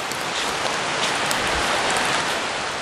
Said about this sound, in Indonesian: ini hujannya lumayan cukup deras